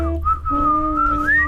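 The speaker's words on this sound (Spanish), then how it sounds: "No me sale el silbido." A person whistles a steady, wavering tone that rises in pitch near the end, close and clear over a low hum.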